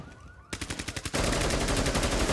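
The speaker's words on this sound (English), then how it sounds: "A lot of pre-firing here. Just bullet spam everywhere." Automatic gunfire in a tactical shooter game, a few rapid separate shots followed by a dense, loud sustained burst of bullet spam close by.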